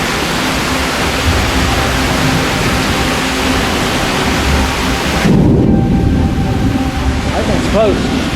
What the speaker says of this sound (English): Got the rain getting closer.